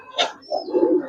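Giribaz pigeons cooing, a brief soft coo close by followed by low murmuring calls, short and moderately loud.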